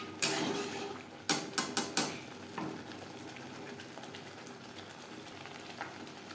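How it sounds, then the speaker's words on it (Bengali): Egg curry spice paste stirred in a pan over a high gas flame: a few sharp metallic clinks of a spoon against the pan, clustered early, over a low steady frying hiss that lingers throughout. "হাই ফ্লেমে 2-3 মিনিট নাড়াচাড়া করে"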